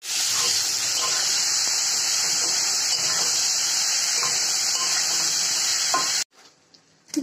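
Bacha fish and potatoes sauté in a pan with salt and turmeric, a loud, constant hissing sizzle that holds steady before cutting off abruptly near the end.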